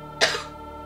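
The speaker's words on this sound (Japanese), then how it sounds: "めっちゃ咳込む" A retro RPG character in Lennus: Kodai Kikai no Kioku lets out a single short, rough cough burst over a steady, quiet game-music backdrop.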